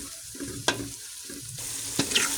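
Corned beef frying in a pan is stirred, giving loud close sizzling with repeated scraping stirs and a couple of sharp utensil knocks against the pan.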